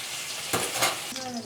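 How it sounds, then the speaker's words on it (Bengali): Rohu fish pieces coated in turmeric and salt hit hot mustard oil in a kadai, giving a loud, steady hiss with sharper crackling bursts as the fish settles; nobody speaks. "আমার কড়াইয়ে সর্ষের তেল গরম হয়ে গেছে, আমি মাছটা দিয়ে দিলাম। মাছটা এবার হালকা লাল করে ভেজে নেব।"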